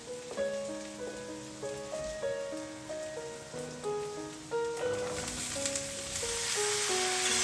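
A large chopped onion fries in a pan for masala dosa, a steady hiss of sizzling that swells louder toward the end, under a gentle melodic music track with no talking.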